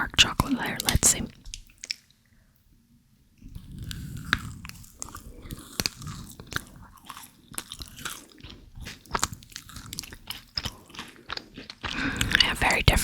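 Close, crisp bites and wet chewing of a Nugabar bar with a thin chocolate fudge layer over nougat, in bursts separated by a near-silent pause, with soft whispering in between.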